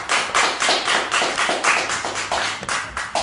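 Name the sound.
audience applause for podcast guests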